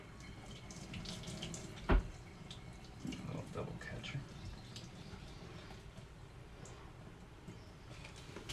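Tap water running into a kitchen sink while dishes and a pan used for sautéing onions and poblanos are washed, a steady hiss with a sharp clatter near the start and occasional clinks.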